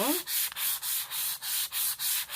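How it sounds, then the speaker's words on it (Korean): Sandpaper rubs back and forth over a flat wooden surface in a steady rhythm of about eight quick strokes, close and clear with no voices. "먼저 평면부터 이렇게 사포질을 부드럽게 해주시고요"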